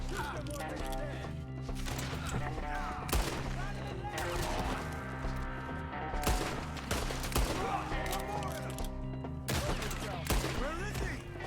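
Gunfire in the Red Dead Redemption 2 video game, a dense fusillade of repeated shots and cracks over a musical score, with characters shouting in places.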